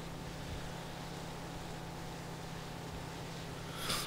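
A boat's engine in the video game Far Cry 3 hums in a steady, low drone while the boat moves along, with a brief swell of noise at the very end.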